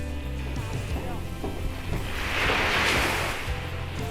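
Waves roll onto a nearby beach in a continuous surf wash that swells into a broader breaking rush midway, with wind noise and faint indistinct voices underneath.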